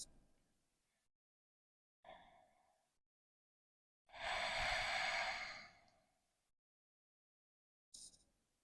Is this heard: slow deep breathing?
yes